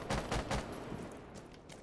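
A burst of rapid gunfire in Rainbow Six Siege, three or four quick sharp shots close together followed by fainter scattered pops, fairly quiet overall.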